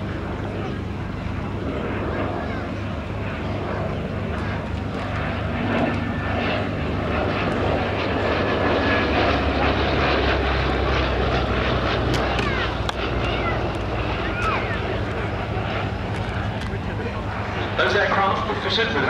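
A Westland Lysander's engine drones steadily at a distance with a low, continuous rumble that swells slightly midway, under speech and some wind buffeting.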